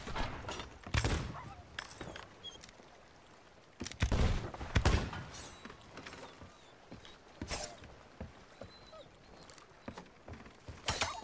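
Cannon fire aboard a pirate ship in Sea of Thieves, with several loud broadband booms spaced irregularly across the stretch, amid creaking wooden mechanisms and clatter.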